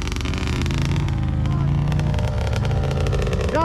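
Engine revving hard and continuously under shouted encouragement, a loud sustained drone with pitch rising at the end, close to the listener.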